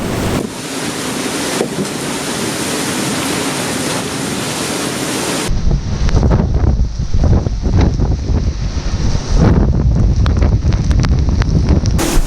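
Strong storm wind gusting near 60 roars and buffets the microphone in heavy gusts, with rushing water and boat noise beneath, loud and close throughout.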